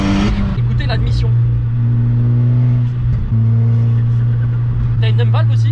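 Intake noise from a 500 hp VW Polo with a manual gearbox: a steady, loud engine drone that holds a constant pitch, dips briefly midway, then settles again, with voices talking over it at the start and end.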